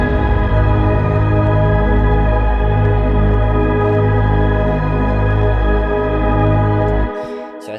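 Electronic track break built from a sustained synth pad over a thick, detuned Reese bass, loud and continuous with no voices, cutting off sharply near the end.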